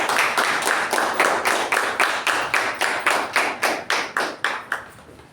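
Audience members at a Toastmasters club meeting give a round of applause, a close run of sharp, evenly spaced claps in a steady beat that gradually thins and fades toward the end.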